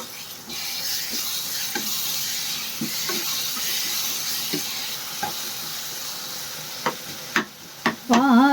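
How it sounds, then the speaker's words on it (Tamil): Ground fennel and garam masala paste sautéing in a pan for egg kurma, a steady soft sizzle and hiss with repeated scraping stir strokes, close up, ending with a few sharper clatters. "இந்த பச்சை வாசனை போகிற வரைக்கும் ஒரு 2 நிமிஷம் நல்லா இது வதக்கிக்கலாம்"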